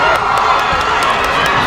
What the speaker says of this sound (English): The crowd now starting to get into this one on both sides.